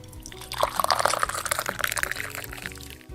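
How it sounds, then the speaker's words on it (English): Water is poured onto candies lined up on a plate, a close, splashy trickle that rises into a steady pour and tapers off after a few seconds. "Next, you pour enough water to cover them up."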